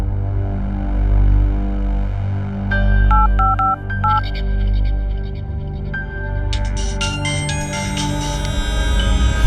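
An outgoing phone call is placed over a low background drone: a short run of dialing tones, then a series of clipped electronic beeps and tones that grow busier toward the end, with no speech.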